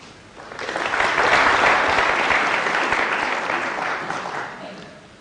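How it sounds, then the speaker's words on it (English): A burst of applause from a snooker final crowd swells quickly from a quiet room, holds steady, then gradually fades, heard from a slight distance. "deserved applause there"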